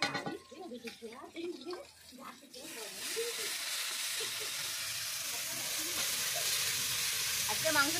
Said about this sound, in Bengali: একসঙ্গে সব মশলা বেটে নিয়ে এই দিয়ে দিলাম কড়ার মধ্যে